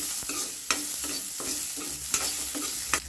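Ginger and garlic fry in a pan for a chicken gravy, a loud constant sizzle cut by brisk, regular scraping strokes of a spatula, close up and with no voices.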